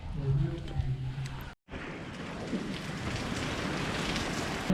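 Steady rain from a heavy storm hisses and patters on surfaces in Shigar Valley, Pakistan, a dense continuous wash of sound with a brief cut partway through.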